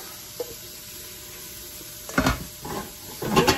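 Chopped celery sizzles in a hot pan, starting as a quiet hiss before loud bursts of stirring and scraping break in two or three times near the end, close and with no one talking.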